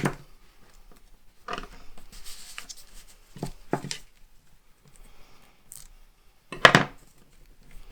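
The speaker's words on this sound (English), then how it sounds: "And then pull the release paper." Release paper peeled off the adhesive backing of a paper craft mat for a mini album page, heard as several short, crisp tearing rasps separated by quiet gaps, close and fairly soft.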